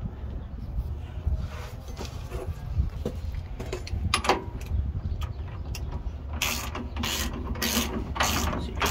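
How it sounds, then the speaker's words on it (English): Ratchet wrench torquing an aftermarket install tool to press in a Meritor pivot bushing, giving close, uneven mechanical clicking and creaking over steady low background noise. "if you look at the ratchet I'm using, I'm really not really even having a hard time with it"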